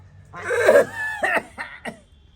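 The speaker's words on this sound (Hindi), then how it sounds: "सांस फूलै है खांसी होई है" A raspy, drawn-out cough followed by a few shorter hacking coughs, close and fairly loud, with no talking.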